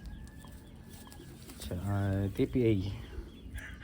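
Taiwan racing pigeons in a loft give a soft throaty cooing call that rises briefly over steady background murmur, with a person talking nearby.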